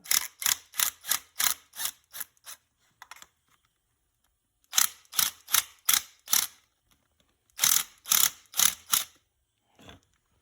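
Socket ratchet turning tight bolts, loud close clicking in three bursts of rapid, evenly spaced strokes separated by pauses, with a faint lone click near the end.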